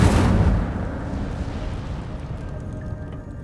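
A fiery burst from an Incendio spell in Hogwarts Legacy, a loud whooshing blast at the start that decays into a long rumbling roar.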